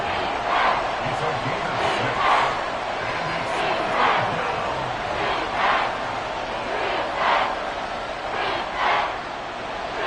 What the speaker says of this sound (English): A big play here. Crowd on their feet.